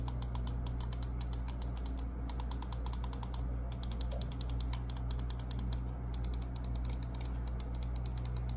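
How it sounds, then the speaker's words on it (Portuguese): Side buttons on a VXE R1 Pro Max gaming mouse clicked in quick continuous runs of crisp taps with a few brief gaps, close up over a steady low background hum. "são bem fáceis de clicar e é muito gostosinho também o som dele"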